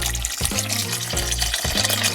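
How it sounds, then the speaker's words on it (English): Water poured from a bottle into a pot of chicken soup with bok choy, a steady close splashing pour with a few brief breaks, no voices. "I'm going to add some water."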